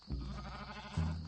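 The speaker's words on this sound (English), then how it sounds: "He thought he heard a bleat, a sarcastic bleat, from the poet's goat." A goat bleats twice in a quavering, nasal voice, close and clear, with a brief pause between the two calls.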